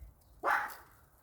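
A dog gives a single short bark, fairly close and alone against a quiet outdoor background among hazel bushes in bloom.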